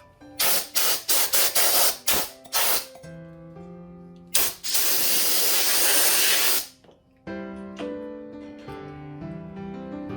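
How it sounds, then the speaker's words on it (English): Compressed air blasts onto a saw blade in short bursts, then in one long, loud hissing stream. Faint clinks and tonal tool rings sound between the blasts. "I like to take compressed air and quickly dry it off"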